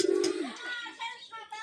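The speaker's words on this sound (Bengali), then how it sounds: "তো দুখানা পায়রা" A pigeon at a village home gives a short, low coo right at the start, close by, followed by fainter soft calls and small movement noises.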